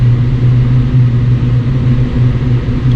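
A Ford Focus ST with a reworked wastegate setup runs on a dyno power run, a loud, steady low engine drone holding a constant pitch throughout, with no talking.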